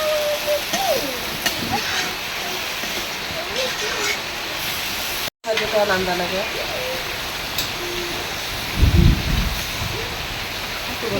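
Heavy morning downpour in a village, a steady, dense, loud hiss of rain running throughout, with voices faintly heard over it.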